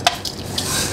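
Mustard seeds spluttering in hot oil in a pan while making tomato chutney, a dense, steady crackle and sizzle with quick pops, loud and close, with no talking.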